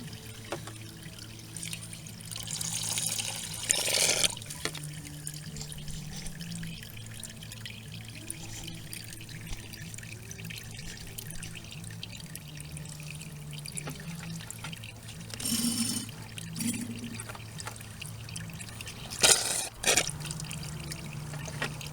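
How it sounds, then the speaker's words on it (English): Coolant draining from a Honda Forza 300 scooter, a soft continuous trickle of liquid running steadily, close and quiet, with a few brief louder clatters and rustles in between and no speech. "We'll let that drain for a while. That's empty. That's draining."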